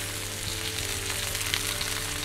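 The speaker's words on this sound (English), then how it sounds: "start frying off the meat" Beef frying in olive oil in a hot pan gives a steady, close, crackling sizzle with faint spits and pops and an even level throughout, with no voices.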